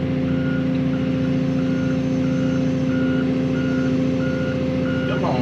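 A loader's reversing alarm beeps in a steady, evenly spaced series over the constant heavy rumble of its engine at a concrete work site.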